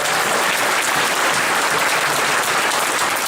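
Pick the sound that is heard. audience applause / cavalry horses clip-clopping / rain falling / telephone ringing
audience applause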